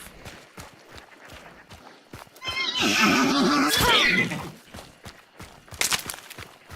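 A loud, shrill horse whinny rises for about a second and a half amid clopping hooves and background commotion, followed by quieter rustling.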